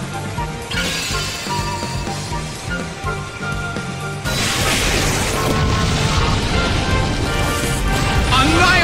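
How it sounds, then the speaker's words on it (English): An explosion move in the Pokémon Battle Revolution video game lands as a loud crashing boom midway through, with a dense burst of noise that stays loud to the end over ongoing game music and effects. "Annihilated by explosion!"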